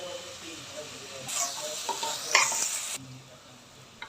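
Onion, curry leaves, chillies and ginger-garlic paste fry in oil in a kadai for pav bhaji, giving a steady close sizzle and hiss with occasional stirring scrapes, and a brief louder burst in the middle.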